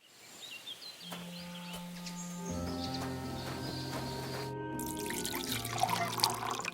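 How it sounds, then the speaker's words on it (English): Water pours into a water skin from a barrel in Kingdom Come Deliverance 2, a trickling, filling sound that builds gradually under layered tonal game music, ending in brighter splashy noise. "take my water skin. Fill it up in that barrel over there."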